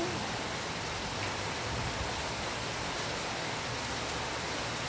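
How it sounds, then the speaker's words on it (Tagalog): Steady rain falling in Cyprus, a continuous even hiss with no pauses and no voices. "Ulan na naman sa Cyprus."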